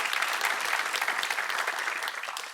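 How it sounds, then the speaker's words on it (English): A quiz-show studio audience claps in a dense, steady burst of applause that holds at full strength throughout, close and loud, with no talking over it. "We are clap happy, this show."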